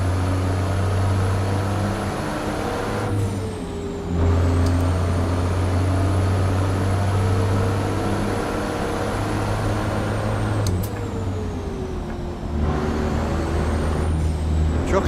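A truck with a new Cummins X15 engine droning steadily from inside the cab, with rising and falling whine as it changes gear and short pneumatic hisses between pulls.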